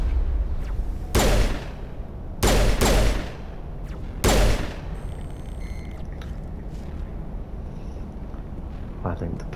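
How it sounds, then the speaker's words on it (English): Pistol shots from Mass Effect ring out near and loud in a few sharp bursts, four of them in the first half, over quieter game ambience. "I think the pistol might be"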